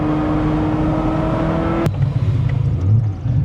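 A Ferrari 355 engine revs hard, then drops off and rumbles at a lower, uneven pitch, close and loud with no talking.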